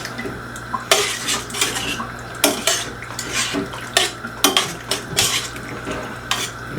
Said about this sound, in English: we're just gonna give this a nice stir.